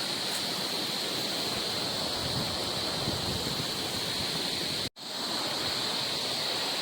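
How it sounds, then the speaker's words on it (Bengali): Mountain stream water rushes like a waterfall beside a forest road on the Sela Pass route in Arunachal Pradesh, a steady dense roar throughout with a brief dropout near the end. "ঝর্ণার মতো জল যাচ্ছে"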